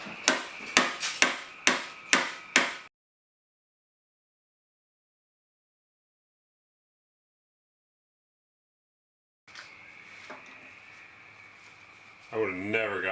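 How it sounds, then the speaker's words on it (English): Six sharp, evenly spaced hammer blows strike an impact screwdriver turned counterclockwise to free a stripped screw, loud and close, then silence, a faint hum and a voice. "Turn counterclockwise and hammer."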